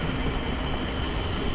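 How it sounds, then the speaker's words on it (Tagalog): A train approaching through Yishun Park in Singapore, a steady broad rumble of rail wheels and carriages that stays loud and even throughout, with no voices. "Hoy, may tren na pa paparating"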